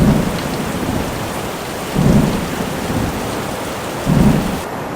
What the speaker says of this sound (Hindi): पत्थरों की वर्षा में भी प्रभु जब अड़िग रहे तब संवर देव ने मूसलाधार पानी बरसाना प्रारंभ किया।